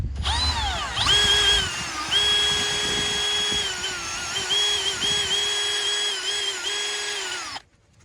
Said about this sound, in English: put them in the end of a drill, not too tight so you don't damage any threads